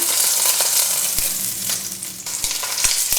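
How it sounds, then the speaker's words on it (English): Rack of lamb seared in a hot pan, a loud steady sizzle and crackle close up throughout, with a few soft thumps of the meat being moved, no voice. "Now I've finished searing the meat."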